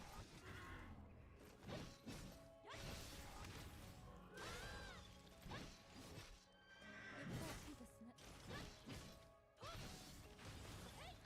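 Horse neighs and whinnies from the horse mode in the video game Honkai Impact, repeated several times over clip-clop hooves, crashes and mechanical game effects, with a faint voice underneath.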